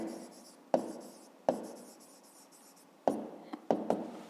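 Pen writing answers by hand for a fifth-grade geometry exercise about angles, in a quiet room: soft scratchy strokes with a few sharper taps where the pen meets the page, and no voices.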